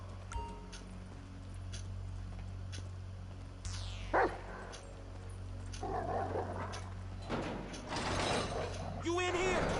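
Chop, the dog in GTA 5, barks in a few short bursts amid mechanical clanking and scraping game sounds, with some chatter in the background.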